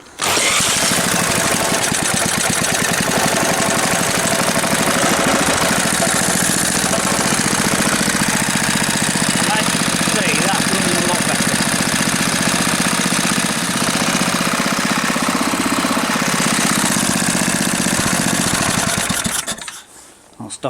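Mystery Engine No 14, a small engine running after internal modifications, chugs loudly and steadily up close with a rapid, rattling, knocking beat for about twenty seconds before cutting out abruptly.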